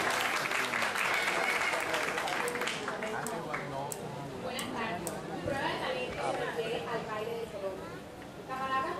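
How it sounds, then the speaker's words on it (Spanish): An audience at a 2014 talent show with joropo and zapateo dancing bursts into strong applause that stays close and loud for several seconds, mixed with crowd chatter and talking. "Un fuerte aplauso para ella."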